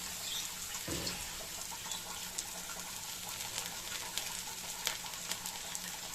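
Drumstick flowers hit hot oil after eggplant and hiss in a steady, moderate sizzle with small crackling pops scattered throughout.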